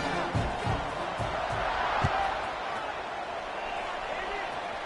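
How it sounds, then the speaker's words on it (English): Stadium crowd in an American football video game buzzing after a touchdown, a steady moderate roar with scattered claps and whoops while a commentator talks over it. "this crowd is buzzing after that last score"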